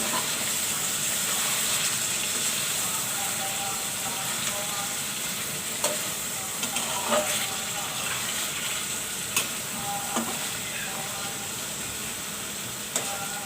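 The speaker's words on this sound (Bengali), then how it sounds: "এখন আমি এখানে কাঁচামরিচ দিয়ে দেবো, আস্তা কাঁচামরিচ নেড়ে চেড়ে দিতে হবে" Whole green chilies sizzle loudly in hot ghee for a chicken korma and are stirred through with occasional sharp spoon clacks against the pan, all over a continuous, even frying hiss with no talking.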